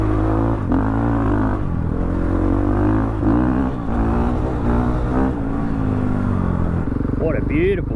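A Ducati Desert X motorcycle engine drones loudly and steadily while riding on a balance track at an open-roads riding event, its tone shifting through the run, with a voice talking over it.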